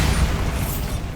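A magical blast spell goes off in Hogwarts Legacy, a short, loud low boom with a rumbling burst that fades quickly.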